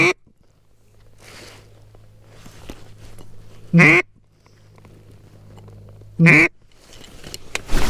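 Two loud nasal quacks from a duck call ring out during a kayak duck hunt on a main lake, spaced a few seconds apart over faint water and wind noise.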